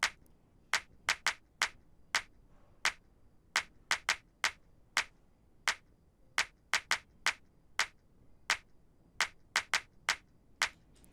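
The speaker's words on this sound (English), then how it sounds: "and then also have some claps going on" A programmed clap sample in an afrobeat drum pattern: sharp, dry claps repeating in a syncopated groove of single hits and quick doubles, clean and alone against near silence.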